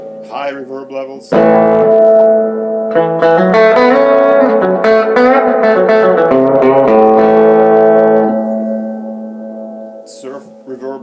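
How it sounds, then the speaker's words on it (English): A VibroChamp Reverb guitar amp at a high reverb setting carries strummed and picked guitar chords that wash into a long, smeared tail, loud and sustained for several seconds, framed by short bits of speech. "High reverb levels."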